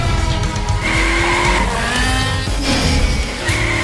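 A car skids with loud, sustained tire squeal and engine noise during a street chase in an animated series, wavering pitches sweeping up and down for several seconds.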